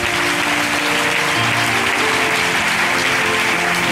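Church congregation applauding during a worship service, a steady wash of clapping that runs loud and dense from start to finish with no speech over it.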